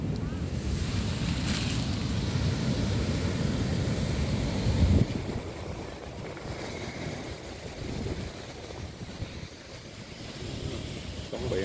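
Sea waves washing onto the beach at Doi Duong in Phan Thiet, a steady broadband surf wash with wind buffeting the microphone, loudest in the first five seconds and then softer and continuous.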